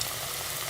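Chicken pakoras frying in hot oil over medium heat, a steady close sizzle and crackle filling the whole short moment with no voices.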